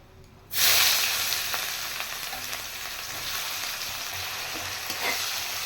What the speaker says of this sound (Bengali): পেঁয়াজটা একটু ভালো করে আগে ভেজে নেব।